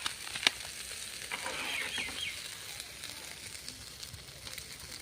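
Veg fried rice being stir-fried with fried rice masala in a pan, a soft continuous sizzle with scraping stirs and a sharp clink of the spatula near the start, no talk.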